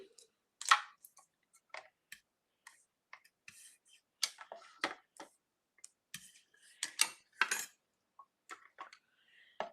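A mini cut and emboss die-cutting machine runs craft dies through, producing a series of brief mechanical clicks and ratcheting ticks that come in irregular clusters, fairly close and quiet.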